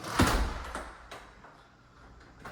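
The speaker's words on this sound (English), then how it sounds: "I might as well go out this way so you can see the sliding glass doors" A sliding glass door in a large Vinings, Georgia house rolls open with a loud close swoosh and clunk, followed by fainter knocks and a last soft thud.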